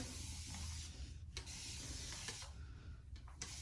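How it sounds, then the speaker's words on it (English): Several short hissing spray bursts from a bottle spraying water onto hair locs, close and fairly soft, spaced irregularly over a low steady background noise. "I actually spray the locks. Get them some water in there."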